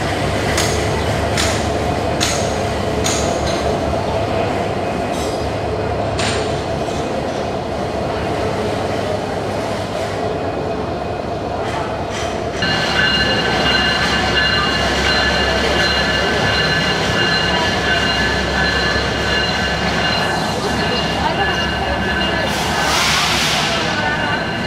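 Diesel locomotive hauling a Parjatak Express passenger train on the Dhaka to Cox's Bazar line, a steady rumble and rolling wheel noise with faint metallic squeals, continuous and fairly loud, with a sustained higher tonal whine joining partway through.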